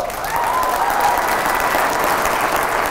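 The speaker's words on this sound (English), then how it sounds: "Big round of applause to Montreal!" A large crowd at a LinkedIn keynote meetup in Montreal applauds loudly, a dense, even wash of clapping that holds steady for a few seconds without speech.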